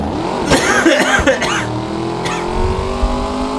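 A motorized 4x4 vehicle from the Lego Batman video game revs loudly close by, overlaid with a human voice mimicking the engine with a buzzing vocal imitation, then settles into a steady drone.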